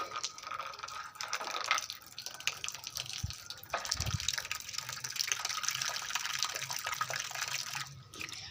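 Water being poured for chickens, a soft continuous splashing and trickling with small clunks of a container, close but fairly quiet against a faint outdoor background.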